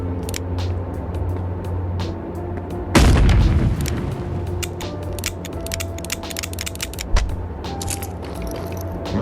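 In the VR game Animal Company, a single loud boom like a gunshot cuts through a background of mechanical creaks, clicks and ratcheting, followed by a smaller thump a few seconds later.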